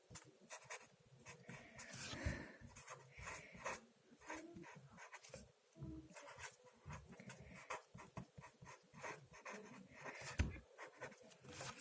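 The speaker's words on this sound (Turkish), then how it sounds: "Şimdi yazıyorum bir şey." A pen writes a handwritten message, probably on a homemade Father's Day gift, with quiet, close scratching strokes in irregular bursts and brief pauses throughout.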